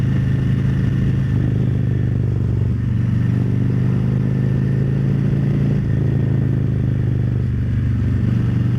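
Motorcycle ridden on twisty local roads, its engine droning steadily and close with a low steady hum and slight shifts in pitch as it carries through bends, alongside rushing wind.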